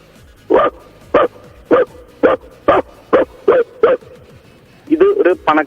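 A voice imitates a wealthy household's dog barking: about nine evenly spaced, loud, close woofs, then a quicker cluster of yappy barks at the end.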